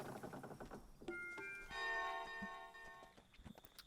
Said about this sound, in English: And I think what we'll do then is ring the bell.